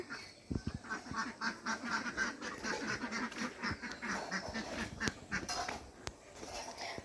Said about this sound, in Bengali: হাঁসটা শুধু ডাকতেছে আর ডাকতেছে